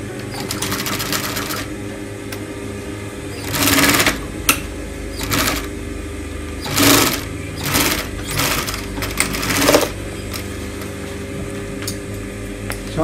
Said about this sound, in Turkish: Çantanın ağız kısmını diktikten sonra diğer kısmı dikiyorum.